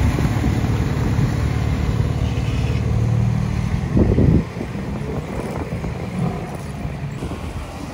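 A BMW M3 E92 passing on a street in Geneva: a loud low engine rumble for about four seconds that cuts off sharply, leaving quieter traffic ambience.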